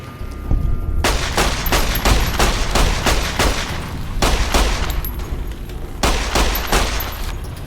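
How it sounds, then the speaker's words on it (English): Repeated loud gunshots ring out in Fallout New Vegas, a steady run of sharp reports spaced roughly every half second, close and dominant with almost no talk. "I'm just gonna shoot at you, hoping you go away."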